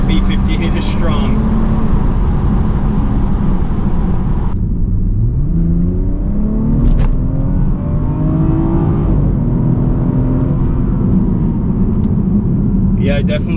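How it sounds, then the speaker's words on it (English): A BMW 340i xDrive with its B58 engine accelerates hard, the engine note climbing steadily through the gears with continuous loud drone and rising pitch, heard from inside the car. "I definitely hear what sounds like some fake engine noise"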